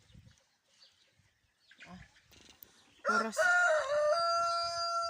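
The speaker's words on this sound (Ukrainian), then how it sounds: "Як виспівує півник." A farmyard rooster crows on a cool, rainy day. After a quiet stretch of faint clucks, a loud, close, drawn-out cock-a-doodle-doo rings out and holds to the end.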